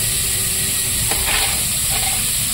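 Potatoes frying in a pan for a Bengali home-cooked dish, a steady broadband sizzle with hissing steam and a couple of faint clinks or stirs, continuous and close.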